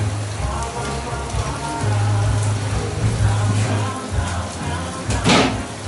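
Steady rain falls outside, a continuous broadband patter with some heavier drops and a low hum underneath, heard alone without talk.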